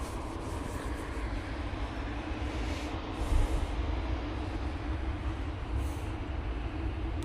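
TUI Boeing 737-800 jet departing Manchester Airport, a broad, steady roar of engine thrust heard from a distance, rumbling continuously without breaks and no voices.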